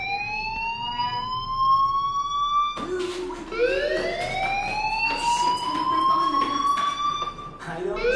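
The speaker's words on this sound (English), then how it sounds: "Hey, do you hear that fire alarm?" A fire alarm in the video game Life is Strange, a rising and falling electronic wail that cycles steadily at moderate loudness, with a sharp restart partway through and voices talking over it.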